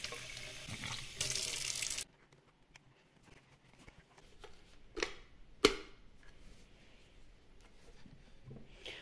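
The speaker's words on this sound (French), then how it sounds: "on ouvre ici et on met de l'eau" Water is poured into the reservoir of an appliance, a short bright splashing run followed by quieter trickles, clicks and handling knocks close by.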